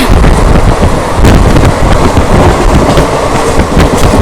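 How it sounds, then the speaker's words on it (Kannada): An express train with CF coaches races through a railway station at about 114 km/h, a loud, steady roar of wheels and rushing air with sharp rail clatter, heard from on board with no voices. "114 ಸ್ಪೀಡಲ್ಲಿ ಸ್ಕಿಪ್ ಮಾಡ್ತಾ ಇದೀವಿ ರೈಲ್ವೆ ಸ್ಟೇಷನ್ನ"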